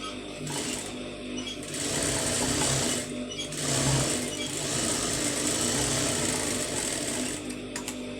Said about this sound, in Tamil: அதே மாதிரி இந்த பக்கமும் வந்து மடித்து வந்து தையல் போட்டுருங்க